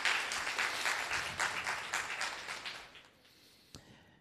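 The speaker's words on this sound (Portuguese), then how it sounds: "Palmas para o nosso amigo, tá?" Classroom applause for a student fills the first three seconds with dense, steady clapping from a small group, then quickly dies away, leaving one sharp clap near the end.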